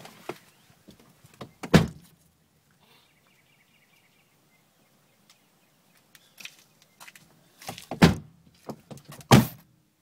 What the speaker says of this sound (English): going to close the doors here, at least.